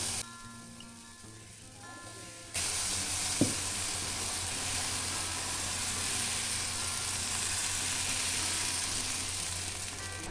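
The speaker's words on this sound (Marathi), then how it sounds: "आता आपण याचा डोसा घालूया." Fermented rice-and-lentil dosa batter hits a hot pan with a sudden loud sizzle that jumps in and holds steady as a bright, continuous frying hiss, after a quieter stretch of low kitchen hum.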